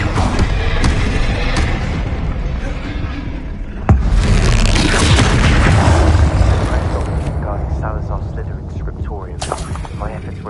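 Spell blasts boom out in the Hogwarts Legacy video game as the Bombarda blasting spell explodes, with a heavy thud near the middle over constant game noise, while a player talks throughout.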